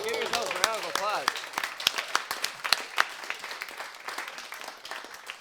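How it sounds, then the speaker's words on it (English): An audience breaks into applause, dense clapping rising quickly, with a voice talking over the start, then thinning into scattered individual claps that fade out. "Oh, give yourselves a round of applause."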